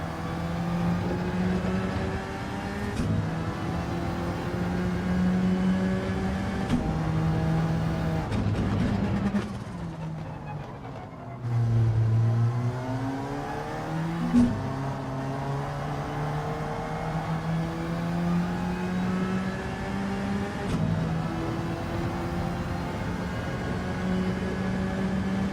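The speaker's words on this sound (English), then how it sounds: "the gear slamming does tend to work to make the car slow down and rotate a bit" A race car engine in a racing video game time trial, holding a steady drone with abrupt gear slams and revs that dip and climb sharply midway, loud and continuous, with no talking.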